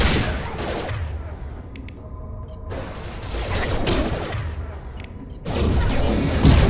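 Dense bursts of rapid gunfire in Mass Effect 2 come in loud waves, with sharp automatic volleys and booming impacts separated by brief lulls.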